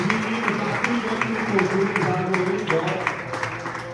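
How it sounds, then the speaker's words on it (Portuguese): A church congregation at a conference service applauds, and the clapping carries steadily through the room. A preacher's voice and other voices are heard through it. "E a igreja que crê dá uma salva de palmas."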